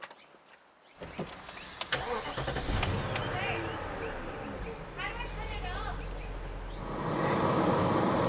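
A BMW X5 Alpina 4.6 cranks and fires up at close range, its idle settling into a steady rumble that swells toward the end, with brief mechanical clicks and a person talking over it.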